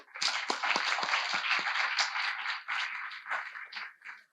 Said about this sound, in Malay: Berikan tepukan kepada mereka.